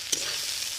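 Spice masala with chili powder fries in a pan, giving a brief, steady sizzle with one small spit near the start.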